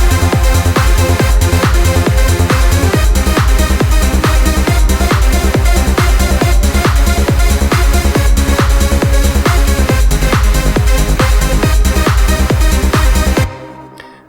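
Loud trance lead synth of short, repeating staccato notes spread across three octaves, pulsing over a driving four-on-the-floor beat until it cuts out abruptly near the end.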